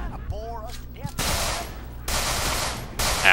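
Enemy gunfire in the video game Manhunt 2, long loud bursts of rapid automatic shots that come in waves, following a short stretch of speech.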